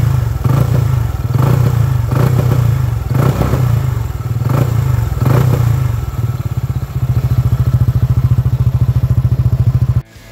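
A 2025 QJ Motors Bristol AX 180 scooter's exhaust idles with a loud, close, throbbing beat, then drops into a rapid even putter before cutting off abruptly at the end.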